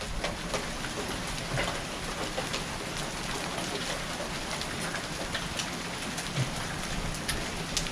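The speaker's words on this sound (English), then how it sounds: "Oh boy, was that hail? I just heard something hit the concrete out there." Hail pelting concrete outside during a severe storm, a dense continuous hiss of impacts with scattered sharper hits, steady and moderately distant.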